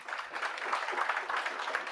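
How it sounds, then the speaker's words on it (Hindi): Students in a classroom clap loudly together, a fast, dense burst of applause that runs steadily for a couple of seconds without talk. "जोरदार ताली बजा भाई"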